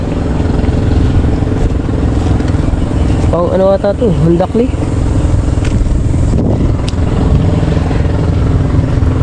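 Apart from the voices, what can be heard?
motorcycle engine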